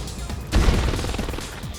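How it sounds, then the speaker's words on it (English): Gunfire in the real-time strategy game C&C Mental Omega, as the commando Tanya cuts down low-tier infantry: a sudden loud burst of rapid shots that rings on and fades out, with no voices. "Look how quick Tanya shoots and kills just tier 1 cannon fodder."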